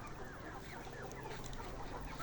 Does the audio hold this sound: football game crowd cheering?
no